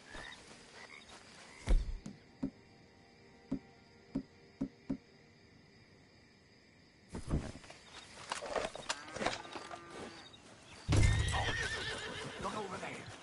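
Horse hooves in Red Dead Redemption 2 clop in a slow, evenly spaced series of sharp knocks, then a louder stretch of shuffling, neighing and movement follows.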